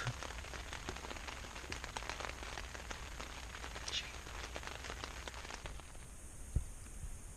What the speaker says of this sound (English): Why is it whenever I camp it rains?